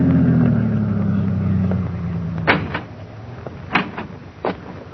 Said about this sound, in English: Then, 1 week later, Baker was standing at the farm entrance when 2 men drove up and got out of their car.